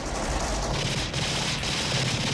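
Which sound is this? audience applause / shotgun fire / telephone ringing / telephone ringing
shotgun fire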